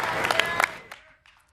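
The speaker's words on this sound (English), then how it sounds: "give a cheer for your fan, or for the player you're a fan of" A crowd at a StarCraft 2 match cheers and claps for Terran-versus-Zerg player EG IdrA in a short, loud burst that fades out within about a second, with a few scattered claps left at the end.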